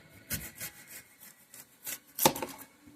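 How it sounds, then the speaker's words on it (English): Knife blade cuts through an onion on a board, giving scattered sharp, close chops at uneven intervals with one louder stroke near the end. "I'm going to just cut up an onion"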